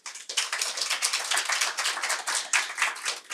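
A conference audience gives a brisk round of applause, many hands clapping in a dense, close patter that rises and falls steadily, with no voices over it.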